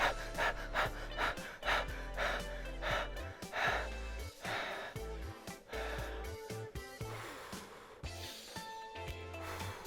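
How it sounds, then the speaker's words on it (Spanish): A man demonstrates rapid breathing, panting in quick audible gasps close to the microphone, repeated in a steady fast rhythm and later easing, with faint background music underneath. "solo con hacer esto, de respirar rápido"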